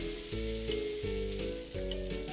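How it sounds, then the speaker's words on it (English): Onion frying in a pan for potato curry, a steady loud sizzle over a game's tonal music notes stepping in short phrases, with no talk. "Well, I guess we're going to put the onion in first."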